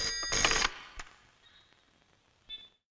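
A telephone rings in a Hindi-dubbed action film scene, with a loud, bright burst of ringing at the start, then a few fainter, shorter rings fading out.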